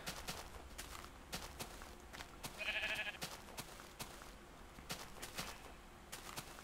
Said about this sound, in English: Alright, lots of sheep.